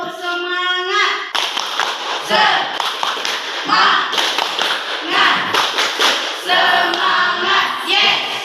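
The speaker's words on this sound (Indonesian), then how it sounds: "kita tepuk semangat dulu biar lebih semangat" A classroom of students standing to perform a rhythmic spirit-clapping routine, with sharp group claps and taps in patterned bursts, loud and close, mixed with children's voices chanting along.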